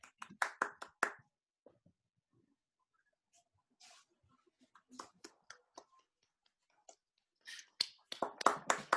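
A small group clapping in short sporadic bursts, a loud round at the start, scattered claps in the middle and another lively burst near the end, with quiet gaps between.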